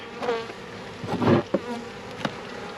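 Honeybees buzz close by as a live package is installed into a hive, a droning hum with a few louder passes near the ears and occasional handling knocks, no voices.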